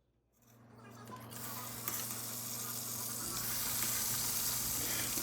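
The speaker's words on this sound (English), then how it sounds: "So here I go frying them up in the pan. I just use a little bit of the bacon grease I reserved" Boiled pierogies fry in reserved bacon grease in a pan, the sizzle starting from near silence and swelling into a loud, steady crackle with a low hum underneath.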